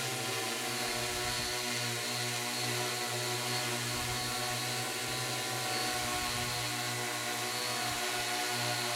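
A steady, high-pitched drone motor buzz drones continuously at close range during a flight duration test, loud and unbroken, like small propellers spinning hard.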